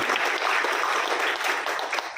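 Steady, dense audience applause at a speech event at a cancer center, even and fairly loud throughout with no break.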